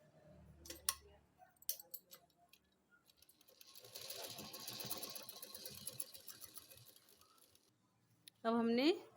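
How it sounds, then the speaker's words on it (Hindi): A sewing machine stitches a baby girl's kurti in short, quiet bursts of rapid ticking, with a longer steady run in the middle and brief soft handling noises between stitches. "अब हम इसके यहाँ सिलाई कर लेंगे।"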